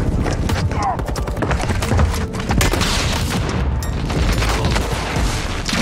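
A grenade explosion in Call of Duty Warzone 2.0 lands amid heavy, dense gunfire and booming blasts, with someone talking over the constant chaotic battle noise.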